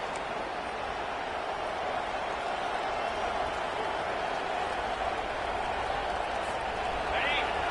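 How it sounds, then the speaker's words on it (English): A loud stadium crowd at a football game roars as a continuous, even wash of cheering that holds for several seconds, distant and broad, with no single voice standing out. "This crowd, full throat, splitting the eardrums"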